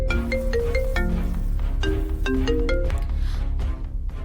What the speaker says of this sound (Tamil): ராஜி, சம்மந்தி அம்மா ஃபோன் பண்றாங்க.